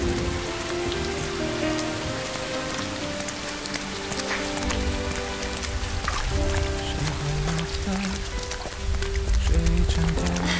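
Steady, dense rain falls on surfaces close by, a continuous patter that swells slightly louder toward the end.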